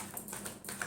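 Tarot cards being shuffled for a Taurus love reading give off a brief, faint run of quick dry flicks and taps, close by and alone.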